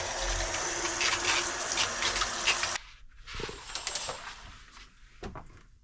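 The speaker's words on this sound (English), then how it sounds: "I can use the rain shower." Steady rushing water from a rain shower head on a boat pours loudly for a few seconds, then cuts out and returns as a lighter, uneven spray with a few soft knocks.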